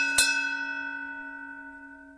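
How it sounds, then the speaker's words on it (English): A single bell is struck once and rings out with a clear, sustained tone that slowly fades over two seconds in a quiet room. "ring the bell."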